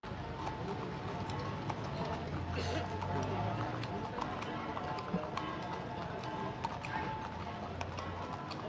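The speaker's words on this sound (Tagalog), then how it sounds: "Yung kabayo ni Mocha ayaw nang tinatabihan" Horse hooves clip-clopping at a crowded outdoor political rally in Baguio, a steady rhythmic clatter under a constant bed of crowd chatter and voices.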